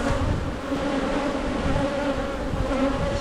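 Honey bees buzz densely on a brood frame in a hive, a loud, close, continuous drone with a steady hum and no pauses.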